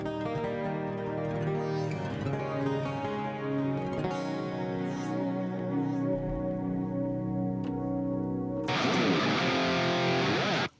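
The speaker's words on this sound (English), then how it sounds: "Now I'm using my piezo sound." An acoustic-electric guitar's piezo pickup plays through a Line 6 Helix effects unit, giving sustained, ringing chords with a bright plucked attack, and a fuller, brighter strummed passage near the end before an abrupt stop.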